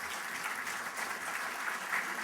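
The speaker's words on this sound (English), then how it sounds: "So please give Bob and his team a round of applause for all the work that they do." Audience applause at a broadband summit's opening remarks, a steady dense wash of clapping from a seated crowd, moderately distant and sustained throughout.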